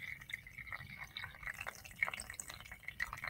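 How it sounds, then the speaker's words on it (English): A salt-and-pepper mixture in water poured through a coffee filter set in a strainer, giving faint trickling and irregular dripping and splashing over a soft background hum, with no voices. "now I'm going to pour my mixture of salt and pepper"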